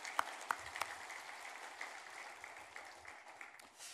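A church congregation applauds during a Sunday service, a steady soft patter of many hands sustained for several seconds, with a few sharper, closer claps standing out near the start; the whole sound stays faint and distant.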